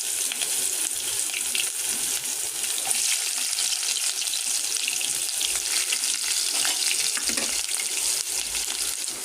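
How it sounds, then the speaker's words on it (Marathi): Chopped onion fries in hot oil in a kadhai, a dense continuous hiss of sizzling with a few soft stirring knocks, close and steady throughout with no voices. "कढई गरम आहे त्याच्यामध्ये मी तेल टाकलेलं आहे आता एक कांदा कापलेला आपण ते टाकून घ्यायचं आपण लाल करून घ्यायचं"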